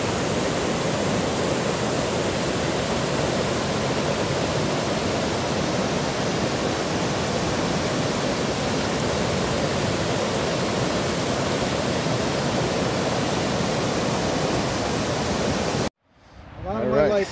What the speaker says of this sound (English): That's the French Broad River right there.